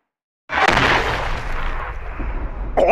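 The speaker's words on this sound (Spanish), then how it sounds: "lo que hace estornudar a Saitama, lo que luego causaría una gran explosión" A sudden loud anime explosion from One Punch Man bursts in after a moment of silence, followed by a rumbling roar and a second blast near the end.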